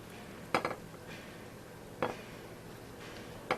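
Cooked pasta being moved from a pan into a dish, a few sharp clinks of utensil on cookware spaced well apart, faint and close in a quiet kitchen.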